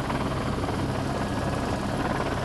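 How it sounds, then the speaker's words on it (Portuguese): A fire department rescue helicopter approaches a flood-stricken area after heavy rain, its steady rotor and engine roar filling the scene as one continuous, loud wash of noise with no pauses. "o helicóptero do Corpo de Bombeiros se aproxima de um local onde várias pessoas se concentram ali"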